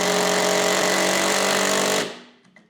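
A Würth M-Cube 18V impact driver on speed setting 2 hammers a screw home with a loud, steady rattling whine for about two seconds, then stops abruptly and leaves only a faint trailing click.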